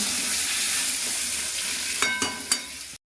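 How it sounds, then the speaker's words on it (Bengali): Potatoes fry in hot oil with whole cumin seeds, giving a steady, close sizzle throughout, broken near the end by a few sharp clinks of stirring before the sound cuts off. "গোটা জিরে তেলের ভিতর দিয়ে এবার আলুগুলো ভেজে নিচ্ছি"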